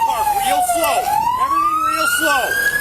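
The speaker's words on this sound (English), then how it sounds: "Somebody shut off that siren." A police car siren wails loud and close in a single rising and falling sweep, with overlapping siren echoes, heard during a tense traffic stop.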